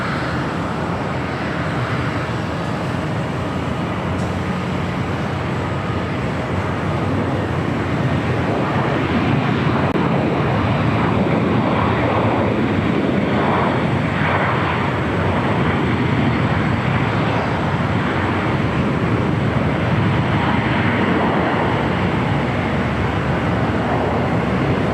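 A United airliner takes off from runway 25 right at LAX, a loud, sustained broadband jet roar that stays strong and steady for the whole stretch, with no voices over it.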